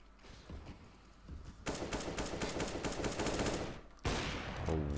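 Rapid rifle fire in CS:GO shooting through a wall, in a steady sustained burst of sharp cracks followed by another volley after a short gap, at moderate loudness.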